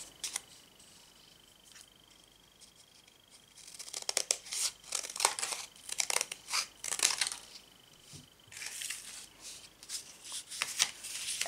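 Scissors snipping through folded layers of paper for a Waldorf star lantern, a series of close, crisp cuts and rustles arriving in bursts after a quiet start.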